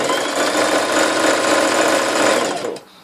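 A sewing machine stitches along a raw fabric edge in a fast, steady, close mechanical buzz that runs continuously, then stops abruptly near the end.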